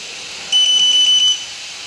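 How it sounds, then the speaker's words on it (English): A UHF RC receiver emits a rapid series of short, high-pitched electronic beeps during failsafe binding, about eight in quick succession, clear and close over faint background hiss. "And once you hear the beep,"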